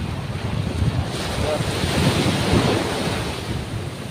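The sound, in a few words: sea waves and wind at the shore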